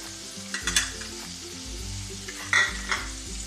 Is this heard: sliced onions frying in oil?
yes